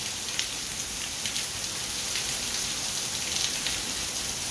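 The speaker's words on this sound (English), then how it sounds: "Steve, if you really want this kind of rain, we'd be happy to send you a little bit every day" Heavy rain pours down in a dense, steady hiss of close, continuous drops drumming on surfaces, with no voices and no breaks.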